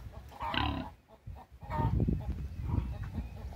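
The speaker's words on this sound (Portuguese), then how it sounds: "Vamos mostrar aqui nossa criação de porco como tá boa." Farm pigs grunt and snuffle close by, with short bursts at first, then a denser run of low grunts.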